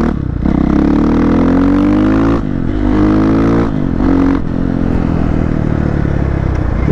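A Husqvarna FE501 motorcycle revs hard and accelerates with a loud, close engine roar, the pitch climbing in surges with brief dips between gear or clutch changes as the clutch is released for a wheelie.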